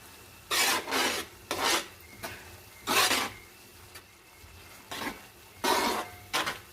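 Spoon scraping and rasping against rice in a pot as basil, cumin and seasonings are mixed in, in several short, firm strokes with brief pauses, close and fairly loud, no talking.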